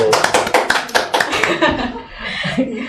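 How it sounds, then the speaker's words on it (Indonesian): A few people clap hands on an Indonesian talk show, a burst of sharp, close claps with light chuckling and talk overlapping, fading into speech toward the end. "tepuk tangan dulu"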